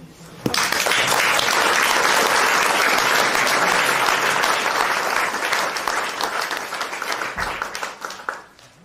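Sustained applause from an assembly at a French municipal meeting, honoring a departing commune representative; loud, dense clapping starts abruptly, holds steady, then thins out and fades over several seconds.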